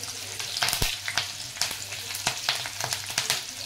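Garlic, green chilli and curry leaves fry in hot oil for Maharashtrian zunka, giving a steady close sizzle broken by sharp crackles and spatters throughout, with no voices.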